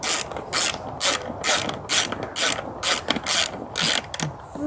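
A hand ratchet clicks in quick bursts, about ten strokes, while backing out 10 mm bolts on the carburetor of a 1985 Honda Shadow VT1100 motorcycle, close and loud with no talk.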